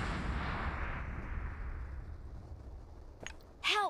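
Rocket launcher fire in the BGMI mobile battle royale game: a loud booming blast that decays into a long rumbling tail, followed by sharp cracking shots near the end.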